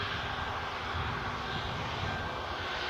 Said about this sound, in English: the TUI as it's powering towards the runway now